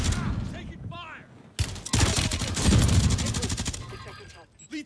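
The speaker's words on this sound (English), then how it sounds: "Ah, taking fire!" Intense gunfire from a Call of Duty Warzone 3 match: loud, dense bursts of shots and fusillades, with game voice lines over the shooting.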